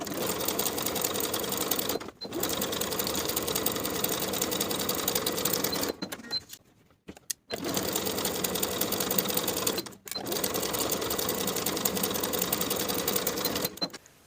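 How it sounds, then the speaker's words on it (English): A sewing machine stitches a side seam of a lined dress in long steady runs at close range, broken by a few brief pauses, one slightly longer, before resuming. "Sew the side seam from the bottom of the lining pieces across the seam to the bottom of the main piece on both sides with a 1/2 inch seam allowance."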